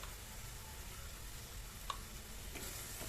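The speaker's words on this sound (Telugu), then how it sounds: "ఇప్పుడు మామిడికాయని ఒక 2-3 నిమిషాల పాటు ఫ్రై అవ్వనివ్వాలి ఆయిల్లోనే" Raw mango pieces fry in oil with a faint, soft, continuous sizzle, very quiet, with one small click partway through and no talking.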